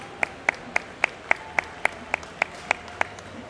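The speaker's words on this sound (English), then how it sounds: "but give him a round of applause." Clapping for a champion Brahman bull at a Houston livestock show arena: a slow, evenly spaced run of about a dozen crisp claps, distinct and regular, over quiet background room noise.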